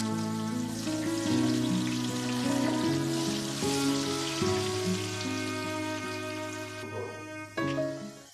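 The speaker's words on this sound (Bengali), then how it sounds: "আলুগুলো ভালো করে ভেজে নিতে হবে।" Long potato strips fry in hot oil for a Ganges hilsa fish recipe, a continuous crackling sizzle that stays fairly even and close before thinning out near the end.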